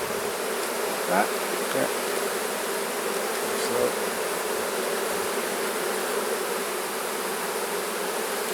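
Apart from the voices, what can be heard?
honey bees buzzing around an opened hive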